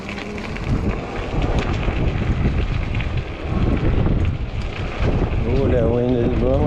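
Gusty wind roars steadily across an outdoor microphone during a ride on a 20-inch folding fat-tire e-bike in the cold near dusk, a broad continuous rush that swells and eases, with a voice talking through parts of it.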